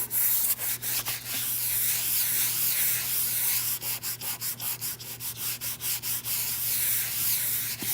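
Hand rubbing and blending across a craft surface, a steady broadband scrubbing sustained throughout with rhythmic strokes quickening toward the end, close and fairly loud.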